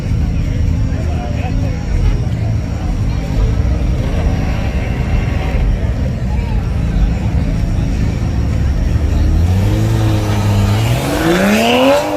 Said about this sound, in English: Okay, they done turned that little Supra up.